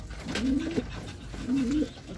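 Pigeon breeders cooing at feeding time, two soft rolling coos a moment apart, fairly close over quiet background noise.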